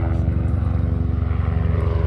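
A helicopter passes overhead, its rotor producing a loud, steady, rapid chopping throb that fills the moment without any voices.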